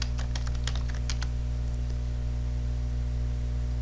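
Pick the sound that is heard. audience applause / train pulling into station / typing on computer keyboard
typing on computer keyboard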